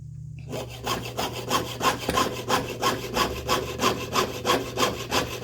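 A hand saw cuts in steady back-and-forth strokes, loud and close, with an even rasping rhythm, while making an open-backed bezel.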